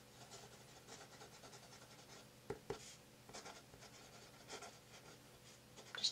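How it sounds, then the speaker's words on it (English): A pen moves quickly across paper in a quiet room, making soft, continuous scratching strokes broken by a couple of light taps, faint and close, with no talking. "Let's just write, something really quick here again."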